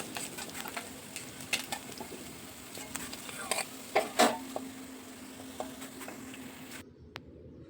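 Small mourala fish fry in hot oil with a quiet, steady sizzle, broken by a few clinks and scrapes of a utensil turning them in the pan.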